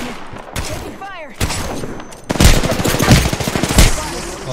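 Gunfire in a video game: sharp single shots and rapid bursts of automatic fire, loud and close, thickening into a sustained volley toward the end, with brief voices faintly under the shooting.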